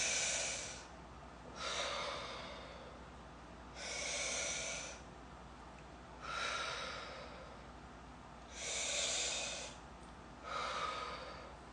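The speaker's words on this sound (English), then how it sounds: "I'm breathing into my ribs so that they get expansion" Deep breaths are drawn in through the nose during a stress-relief breathing exercise, six slow, airy rushes evenly spaced with quiet pauses between, close and alone.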